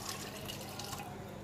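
Water is poured into a pressure cooker holding dried peas, a steady close splashing and trickling fill with faint dripping, continuous and even throughout, with no one speaking.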